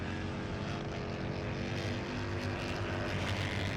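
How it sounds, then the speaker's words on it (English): A bagger racing motorcycle engine heard onboard at Gingerman Raceway drones steadily as the rider holds the throttle open, a continuous loud roar with no talk. "listening to the way these riders roll that throttle on"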